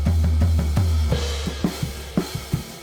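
Studio playback of a drum kit heard through the overhead microphones, with kick thumps and crisp snare and cymbal hits in a steady groove, bright and roomy with no talking.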